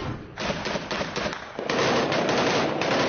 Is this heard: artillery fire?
yes